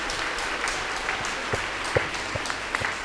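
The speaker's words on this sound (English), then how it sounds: "Let's give a mighty clap to the Lord" Congregation at a Catholic inner healing and family retreat clapping for the Lord, a dense, steady wash of many hands with a few sharper claps standing out, sustained throughout.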